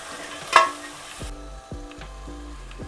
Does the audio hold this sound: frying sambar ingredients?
yes